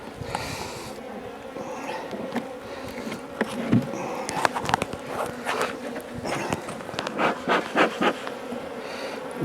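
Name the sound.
angry honey bees buzzing in an opened hive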